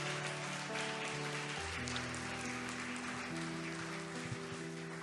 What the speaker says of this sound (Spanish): Un aplauso fuerte para nuestros hermanos en el nombre de Jesucristo.